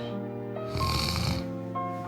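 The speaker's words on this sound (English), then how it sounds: "he was snoring peacefully." A man snores peacefully in bed, one slow rasping breath swelling loudly in the middle and easing away, heard up close over a steady low background tone.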